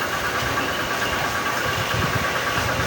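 A motorcycle engine idles in a steady, rough, continuous rumble with a faint knocking texture, close and moderately loud throughout.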